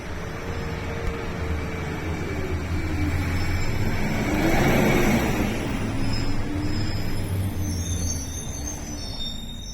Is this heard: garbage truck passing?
yes